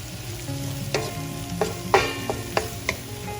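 Masala curry for a dal dish stirred in a pan, a spoon scraping in a string of distinct clinks and strokes over a steady low sizzle, close and moderately loud, with no talking.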